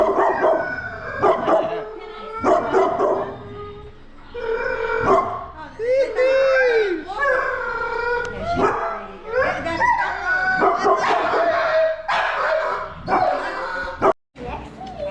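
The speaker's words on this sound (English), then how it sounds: "So these are Enzyo's puppies with Reina" Cane Corso puppies yip, whimper and bark in quick high-pitched bursts, mixed with a person talking close by.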